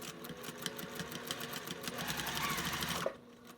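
A sewing machine stitches a felt circle in a fast, even rhythm of close needle strokes, ending abruptly just after three seconds.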